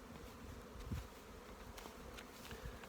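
Honeybees buzzing at the hive entrance on an early April day, with pollen coming in: a steady, fairly faint low hum that holds through the clip, with no talking.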